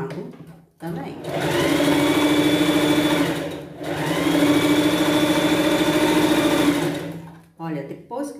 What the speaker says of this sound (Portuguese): Vou costurar o outro lado também.